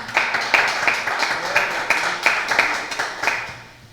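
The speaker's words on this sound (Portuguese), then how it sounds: "Uma salva de palmas para Jesus" Pentecostal church congregation breaking into a burst of rhythmic clapping, loud and close, with the claps falling into a rough repeating beat before fading at the end.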